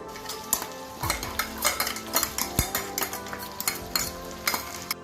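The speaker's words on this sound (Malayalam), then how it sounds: "ഈ അരപ്പിൻ്റെ ആ പച്ച ചുവ ഒന്ന് മാറുന്ന വരെ നമുക്ക് നന്നായിട്ടൊന്ന് മിക്സ് ചെയ്ത് കൊടുക്കാം" A spoon scrapes and stirs ground coconut paste into a drumstick curry in a pan, sounding as irregular clinks and scrapes against metal with a soft sizzle beneath, close and fairly loud with no talking.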